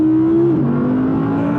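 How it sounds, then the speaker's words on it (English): An Audi R8 V10 Performance engine in manual mode holds a steady idle-like drone that dips slightly in pitch, a close, loud, continuous hum with a smooth tonal note. "I'm gonna have a play with the engine. Go in manual mode"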